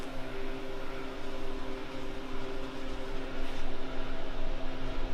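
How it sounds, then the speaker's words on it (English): Heater fan in a 2019 Dodge Durango R/T hums steadily after switching on, a continuous broadband whoosh with a faint tonal drone that stays close and loud and never changes, with no talking. "if you hear the humming, the heater just kicked on"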